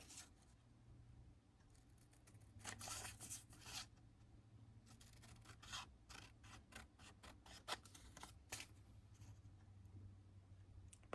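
Soft, intermittent snipping and crisp clicks of scissors working through paper, quiet and close, over a faint steady hum.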